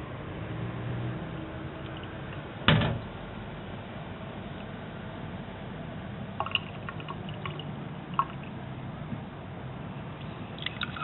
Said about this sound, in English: And rinse the waste solution down the sink.